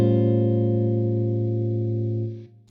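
Distorted electric guitar rings out a single sustained sharp 9 chord in a blues context, loud and close, holding steady before cutting off at the end.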